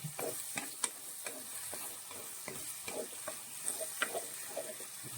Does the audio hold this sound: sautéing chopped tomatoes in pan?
yes